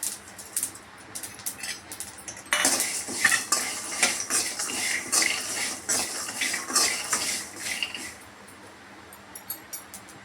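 Coconut, peanuts and sesame seeds dry-roasting in a pan, stirred with a metal spoon: quick, clattering scrapes and taps against the pan, close and busy for several seconds after a quiet start.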